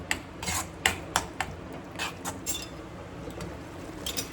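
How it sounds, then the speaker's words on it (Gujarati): Spinach curry stirred in a pan, with a spoon scraping and tapping against the metal in quick irregular strokes, close and moderately loud, no talking. "તો હવે બધું મિક્સ કરી દઈએ."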